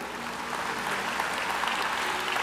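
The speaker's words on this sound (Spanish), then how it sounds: "Un aplauso al Rey." Applause fills a religious retreat hall for the King, a dense, even wash of clapping from a crowd that holds steady throughout.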